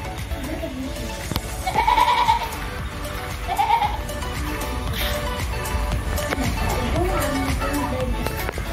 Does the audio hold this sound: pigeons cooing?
no